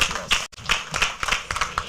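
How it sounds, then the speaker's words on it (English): A small group at a chapter general meeting of a public relations institute claps in a brisk, fairly even rhythm. The close, sharp hand claps fill the short burst with a brief gap midway. "please give him a round of applause."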